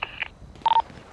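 Electronic phone tones in a video game, two short beeping bursts close and clear against near silence.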